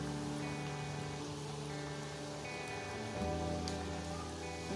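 Namak pare dough pieces fry in hot oil with a steady, dense crackle and sizzle, like soft rain, faint and continuous with no voices.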